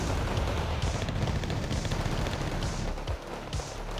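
Sustained heavy rattle of an Mi-24 helicopter's Yak-B gun firing on a mortar in a wargame, a dense continuous roar of rapid fire with explosive rumbles, easing slightly near the end.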